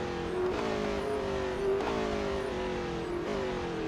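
A race car in the video game Real Racing 3 slows for a corner, its engine tone sweeping down and shifting through gears in repeated steps. Engine drone is steady and moderately loud, with no voices.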